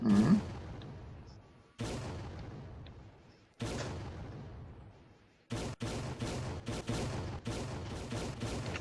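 Cannons on a boat in a virtual world fire in a series of sharp, loud booms, a few spaced blasts followed by a quicker cluster of shots, each with a decaying rumble.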